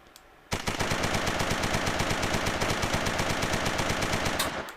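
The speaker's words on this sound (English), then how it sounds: "let's see how long it takes to deplete a full mag if we hold it non-stop" Sten submachine gun in a video game fires full-auto to empty a 30-round magazine, a rapid, evenly spaced burst of loud shots lasting about four seconds before stopping abruptly, with no speech.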